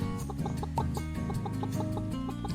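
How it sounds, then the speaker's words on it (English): Farm chickens cluck in the video game Pumpkin Days, repeated short clucks over steady, tonal background game music, with no talking. "Man, these chickens, they hoard their eggs like nobody's business."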